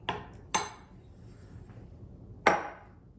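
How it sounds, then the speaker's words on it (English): Spoon stirring pumpkin pancake batter in a bowl, with three sharp clinks against the bowl's side spaced irregularly over soft, quiet scraping. "So just stir it up until it's fully incorporated."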